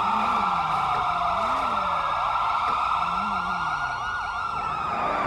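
Police car sirens wail loud and close, with several overlapping sirens rising and falling steadily throughout.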